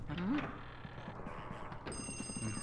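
An old telephone rings in Luigi's Mansion, a few shrill metallic bell bursts heard against a dim, eerie game backdrop with a low hum and stray voices.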